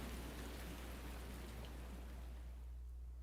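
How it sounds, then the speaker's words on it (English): Steady rain pouring down in The Hundred Line video game, a continuous even hiss of falling water with no voices, faint and constant throughout. "melted away into the sound of the rain pouring down."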